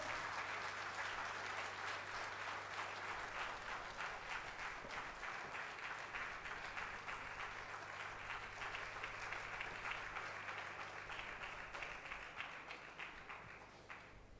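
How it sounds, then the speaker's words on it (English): Sustained audience applause at a national conference of practising company secretaries, steady dense clapping from a large hall crowd for about fourteen seconds, gradually thinning toward the end. "A big round of applause."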